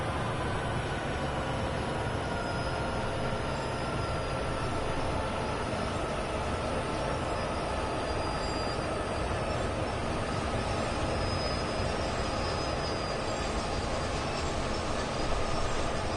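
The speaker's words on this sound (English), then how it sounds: "Now let's bring this train to a stop with the automatic brake again." A freight train in Train Sim World 2 on the Sherman Hill route slows under its automatic brake, with a steady low rumble and faint high brake squeal running continuously, no talk.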